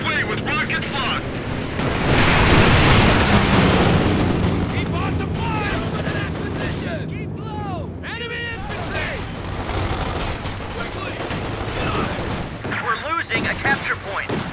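Sustained gunfire and heavy explosions in the Company of Heroes game, a dense loud battle of rapid bursts and booms, with shouted voices over the din.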